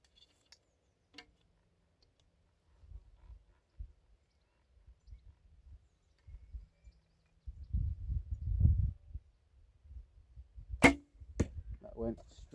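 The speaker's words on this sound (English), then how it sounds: "You can just hear the thud on the target." Arrows from a short Assyrian laminated bow, about 50 inches long, strike a target outdoors with sharp, distant thuds, one early and one late, amid quiet rustling and low rumbling.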